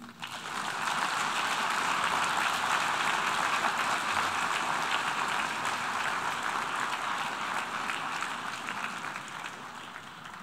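A large assembly hall audience applauds the outgoing president's team at a UN General Assembly closing session, a dense, sustained wash of clapping that swells, holds and slowly tapers over ten seconds.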